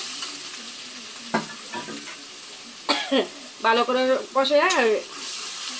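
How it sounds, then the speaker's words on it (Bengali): Chili, onion and dried hilsa fry in a pan under a soft, steady sizzle, with several sharp stirring scrapes and a few squeaky utensil scrapes, close and clear. "একসাথে মরিচ, পেঁয়াজ আর ইলিশের শুটকিটা দিয়ে দিলাম। একটু ভালো করে কষাইয়া"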